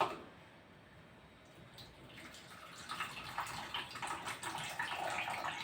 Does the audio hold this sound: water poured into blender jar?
yes